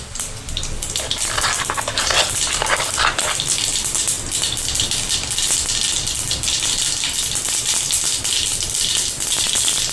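Cumin and mustard seeds splutter in hot oil in a pan, a dense, loud, steady crackling hiss that runs unbroken for the whole stretch with no talking.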